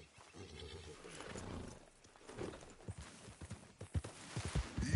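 A horse in a video game whinnies while its hooves clop, faint and uneven, under low game sounds and voices.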